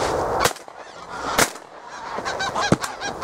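Grey geese honk during a decoyed goose shoot, giving several loud, sharp honks at irregular intervals, close by, with a few fainter calls between them and no talking.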